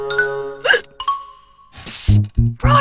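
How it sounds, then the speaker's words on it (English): Cartoon hiccups from Horrid Henry, several sharp squeaky hiccup sounds spaced across the moment, mixed with chiming musical tones and brief voice sounds. "Can you mix up a potion to scare my hiccups away?"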